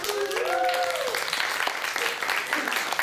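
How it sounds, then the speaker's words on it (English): An audience at a mock debate event applauds throughout, with dense steady clapping, while a voice briefly rises over the noise near the start. "Another round of applause for Brent McCormack."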